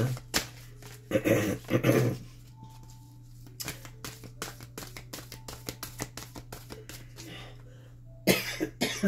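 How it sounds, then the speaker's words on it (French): Several sharp coughs come in a loose, irregular string, fairly close and moderately loud, over a steady low hum with short quiet gaps between them. "J'ai une petite toux aussi avec ça"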